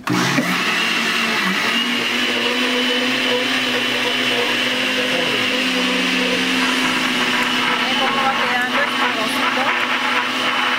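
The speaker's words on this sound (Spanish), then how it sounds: "le vamos a echar la clara de, de huevo y vamos a seguir licuándolo" A blender whirs loudly and steadily, churning a pisco sour with egg white added, the motor holding a constant roar with slight shifts in pitch throughout.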